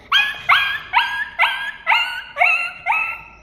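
A human voice imitates a puppy's yelps: seven high, whining yips in a steady rhythm, close and loud, with nothing else around.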